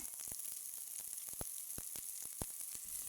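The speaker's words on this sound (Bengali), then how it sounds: "প্রথমে দিলাম সয়াবিনের তেল তারপরে পেঁয়াজ দিলাম" Onion fries in soybean oil with a quiet, steady sizzle broken by sharp, irregular pops and crackles, heard alone without any talking.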